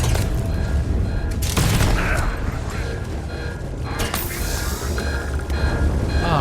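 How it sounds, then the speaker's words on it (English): Gunfire in the video game Starfield, dense bursts of shots and booms crackling loud and close throughout, layered over busy game sound effects with no talking. "Something's shooting me over here."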